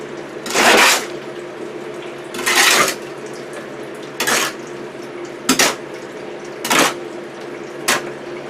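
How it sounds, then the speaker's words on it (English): Mortar mud being pulled by hand into water in a mixing tub while working on a house outdoors, six distinct wet scraping and sloshing strokes spaced about a second apart, close and fairly loud. "Pull your mud down into the water."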